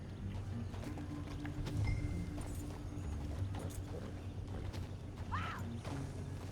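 A horse in Red Dead Redemption 2 clops along with steady hoofbeats over a dense outdoor game soundscape, with a brief whinny-like call near the end.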